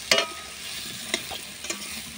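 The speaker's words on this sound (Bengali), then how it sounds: "নেড়ে নেব। ধীরে ধীরে নেড়ে নিচ্ছে।" Shimul fish curry with potatoes sizzles in a pan while a spoon slowly stirs it, giving a steady frying hiss broken by three distinct scraping strokes.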